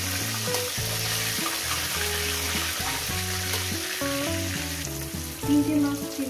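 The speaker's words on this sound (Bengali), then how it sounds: "ঠিক এইভাবে আমি ভাজাটা করে নেব বন্ধুরা" Rohu fish fry in hot oil in a pan with a loud, steady sizzle. Clattering stirring sounds are mixed in, and a brief louder burst comes near the end.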